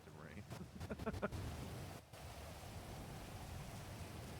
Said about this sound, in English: Oh god, the rain is so loud!